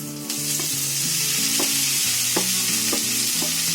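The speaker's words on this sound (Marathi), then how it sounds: "हे आपलं साहित्य सगळं शिजलंय, फ्राय झालंय बघ, लाल फ्राय करून घ्यायचा." Masala frying for kat vada crackles loudly and steadily in a pan, with a few sharp clinks of a spoon stirring it, close up and with no voices.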